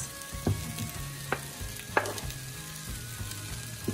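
Beef sausages fry in a pan alongside rice and corn, a soft crackling sizzle with several sharp clicks and scrapes of a utensil stirring, close by, no voices.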